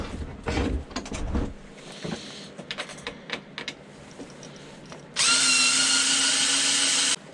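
A power drill backs screws out of scrap metal, with a few clanks and handling knocks first, then a loud, steady close-up whine of the drill spinning for about two seconds at the end.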